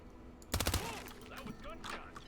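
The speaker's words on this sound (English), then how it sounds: "That was gunshots." In a video game, a quick burst of several sharp gunshots fires in close succession, followed by softer whooshing and ringing effects that trail off as background game sounds continue.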